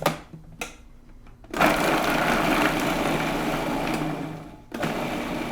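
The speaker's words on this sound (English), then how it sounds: "first we're just going to get a little bit of blending here before we add our oil" A kitchen blender whirs loudly while blending hummus with pickled peppers, starting with a few short pulses, then running steadily for several seconds before a brief stop and restart.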